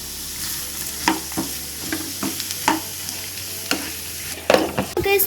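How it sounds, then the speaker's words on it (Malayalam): Onions being stirred and sautéed in a pan for a Kerala-style mutton roast: repeated scraping strokes of a spoon over a steady background sizzle, close and fairly loud, with no talking. "ഇതിലേക്ക് നമുക്കിനി സവോളയും കൂടെ ചേർത്ത് കൊടുക്കാമേ. എന്നിട്ട് നല്ലോണം മിക്സ് ചെയ്യാം."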